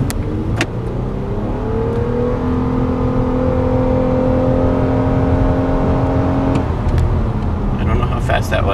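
A rental car's engine rises steadily as it accelerates, holding a climbing whine for several seconds before easing off, heard from inside the cabin with a steady road rumble beneath.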